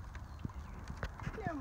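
Donkeys moving in a cow field near fishing water give soft, scattered hoof thuds against a steady outdoor background, with faint voices mixed in.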